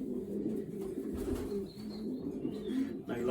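Racing pigeons coo softly and repeatedly while being basketed for races to Honiton and Reading, a low murmuring burble from several birds close by, with faint handling noises in the background.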